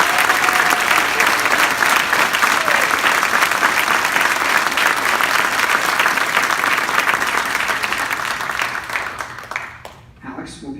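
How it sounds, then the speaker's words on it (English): At a volleyball banquet, a large room applauds Alex with loud, dense, sustained clapping that thins and dies away near the end as a voice starts. "give Alex a huge round of applause"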